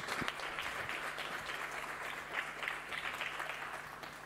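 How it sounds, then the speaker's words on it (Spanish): An audience at a science lecture on robotics claps in warm, steady applause, a dense crowd sound that holds evenly for a few seconds. "un aplauso para ella"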